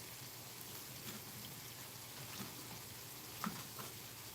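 A steady rain hiss falls throughout, faint and distant, with a few soft drips and patters standing out now and then.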